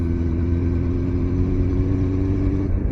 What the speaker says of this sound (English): So listen to the engine noise, look at the mileage.